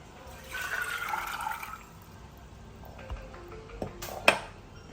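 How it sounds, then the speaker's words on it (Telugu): Chickpeas and a little water being poured into a bowl before cooking, a close, steady splashing pour that fades out, followed by a couple of short bright clinks. "ఇదిగోండి శనగలు వేసి కొంచెం వాటర్ పోసాను"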